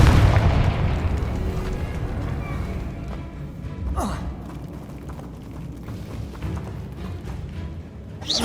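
A Confringo fire spell explodes in the video game Hogwarts Legacy with a loud deep boom at the start, trailing into a rumbling decay, followed by a sharp crackling burst midway.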